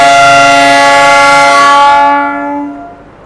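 Train No. 12089 arriving at Yesvantpur station sounds a loud, sustained horn blast, a steady multi-tone blare that cuts off and leaves a fading rumble.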